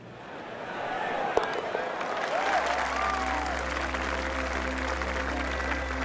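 Golf gallery applause in EA Sports PGA Tour with Rory McIlroy, a steady wash of crowd clapping that holds through the clip alongside a low hum, with a commentator speaking over it.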